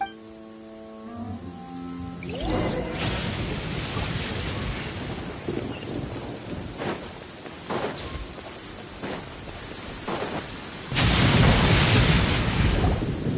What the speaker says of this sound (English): Where is the storm headed? That means anyone outside is in danger!